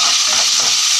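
A spoonful of garlic hits hot oil in a pan, giving a loud, close, steady sizzle with a bright hiss and faint crackles throughout the second.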